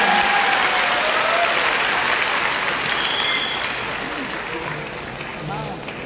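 A large crowd at an IMC seminar in Delhi's Tyagraj Stadium applauds women award winners, a thick, sustained roar of clapping that fades slightly toward the end, with a voice speaking over it.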